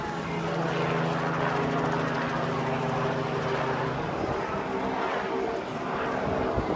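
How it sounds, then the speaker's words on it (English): A tour helicopter offering rides near a downtown shopping area drones steadily with a loud rotor and engine hum, tone shifting partway through as it flies, while people talk nearby. "Free helicopter rides"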